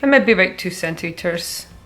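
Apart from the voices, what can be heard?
No distinct noise like a dog, phone or traffic.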